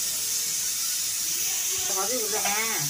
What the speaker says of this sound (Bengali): এখন প্রেসারে সিটি পড়ছে।